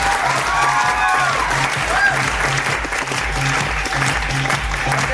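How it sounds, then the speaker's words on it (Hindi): Audience at a motivational seminar in Ambikapur breaking into steady, dense applause, sustained and loud for the whole stretch, with a voice briefly audible amid the clapping. "ताली बजाइए, एक आ गया।"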